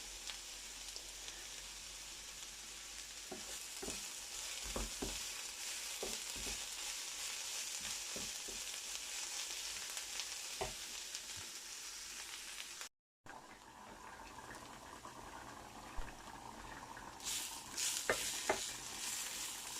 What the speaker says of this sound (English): Now the onions and the chili getting well, a little bit brown